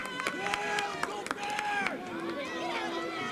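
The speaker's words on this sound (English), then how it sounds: "Hear the crowd in the background." A crowd murmurs and shouts at a high school field hockey game, the background chatter clearly present while people talk prominently over it.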